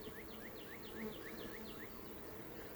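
Honey bees working a BetterComb honey super, a steady soft buzzing hum with individual bees droning past at close range, faint and continuous without talk.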